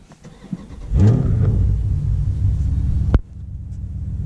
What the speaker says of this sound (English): Car on.